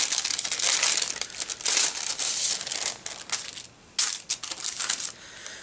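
A glassine envelope held shut by a large clear sticker is peeled and torn open, giving close, loud crinkling and crackling paper bursts that come in waves, with a few brief pauses between them.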